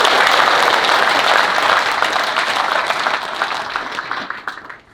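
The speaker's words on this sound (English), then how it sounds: "giving Luke and Jake and Waghorn Builders a big round of applause." Loud applause from a crowd at a rugby league club breakfast event, steady clapping that gradually thins and fades toward the end.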